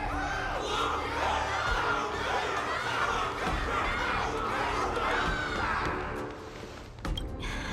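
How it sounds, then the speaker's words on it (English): Dense crowd cheering and shouting from the stands at a wardance ceremony duel in Honkai: Star Rail, a loud sustained roar with whoops and some laughter, easing off near the end. "Can't you hear? Everyone's cheering for you, Luka."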